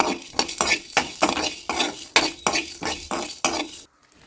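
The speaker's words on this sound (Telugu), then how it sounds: "1 టేబుల్ స్పూన్ జీలకర్ర, 2 టేబుల్ స్పూన్లు ధనియాలు వేసి బాగా ఫ్రాగ్రెన్స్ వచ్చే వరకు వేపుకుందాం" Cumin and coriander seeds dry-roasted in a pan over a medium flame, stirred with a rhythmic series of about a dozen scraping, rattling strokes with faint sizzle, stopping abruptly at the end.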